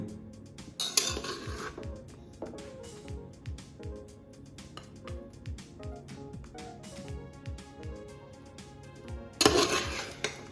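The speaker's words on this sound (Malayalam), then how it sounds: "മേലിൽ നിന്ന് ഈ മട്ടൻ്റെ ഒക്കെ മാറ്റിയിട്ട് ഈ റൈസ് ഒന്ന് മിക്സ് ചെയ്യാൻ പോവാണ്" A utensil mixes mandi rice cooked with Australian lamb neck in a pot, producing close, repeated scraping and clinking of metal on metal in an irregular rhythm, with louder clatters near the start and end.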